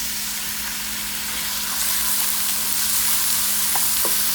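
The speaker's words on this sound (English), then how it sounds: "we're going to add in our onions" Onions sizzle and fry steadily in a pan with sautéing garlic, a constant close hiss with faint stirring, under a low steady hum.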